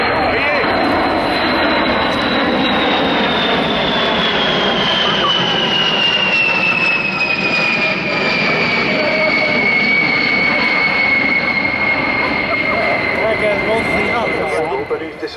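A Boeing B-52 bomber passes at an air show, its loud jet roar sweeping through with a falling whine as it goes by, steady and powerful from start to finish.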